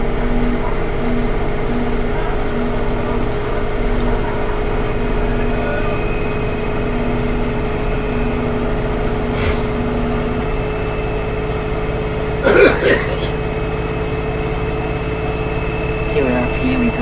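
An LG WM3600HWA front-load washer on a speed wash cycle hums steadily as it spins up, a constant mechanical drone with a brief clatter midway and a voice talking over it.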